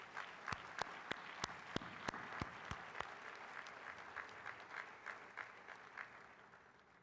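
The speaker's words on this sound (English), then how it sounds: "let's recognize each of these mayors by asking them to stand and give them a round of applause." Luncheon audience applauding mayors honored at a city livability awards event, a few loud distinct claps at first swelling into steady, moderately distant clapping from the crowd.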